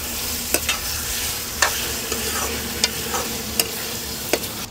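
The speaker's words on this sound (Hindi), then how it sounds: "अभी पोर्क कलेजी हम जा रहे हैं डालने के लिए, प्याज के साथ में दोनों ही भुजाएगा साथ में" Pork liver and onions sizzle steadily in a pan inside a truck kitchen, with a spatula clacking against the pan every second or so over the constant frying hiss.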